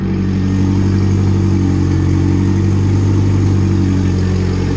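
A turbocharged B16 engine in a Honda Civic EG runs at a steady, fast idle, a loud, close, continuous drone with a deep throb and no change in pitch, and nobody speaks.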